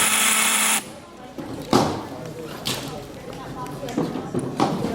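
A DEWALT impact driver runs in a loud whirring burst on a screw before its clutch slips out, followed by a series of scattered sharp clicks and knocks at close range.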